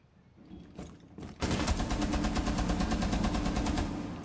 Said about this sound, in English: Oh, I missed every shot.